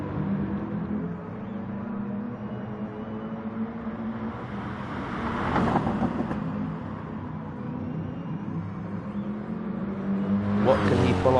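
A BMW race car engine in the NGR class of a racing video game drones steadily and loudly with a continuous harmonic whine, swelling briefly around the middle and again near the end, with a commentator talking over it.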